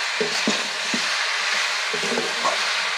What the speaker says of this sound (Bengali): এরকম ভাবে কিন্তু সমানে নেড়ে যেতে হবে, নাহলে কিন্তু গুড় তলে ধরে যাবে।